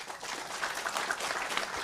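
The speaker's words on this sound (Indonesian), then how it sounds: "Nah, tepuk tangan untuk dia." Audience claps during a talk on capitalism and trade, a short burst of moderately loud, dense clapping from a gathered crowd, with no talking over it.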